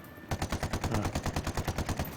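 Rapid automatic gunfire in Ghost Recon: Wildlands shoots out lights, a close, loud, evenly spaced burst of about fifteen shots with no speech.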